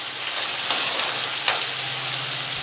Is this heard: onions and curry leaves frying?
yes